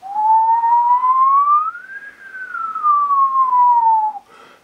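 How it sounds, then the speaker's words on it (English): A person whistles one long sustained tone that rises gradually, peaks, then glides back down, loud and alone with no talking over it. "Try to whistle."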